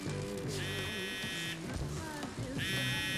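A mobile phone rings with an incoming call in a Spider-Man video game, two bursts of bright electronic buzzing tones over a bed of game music and low sounds, no talk.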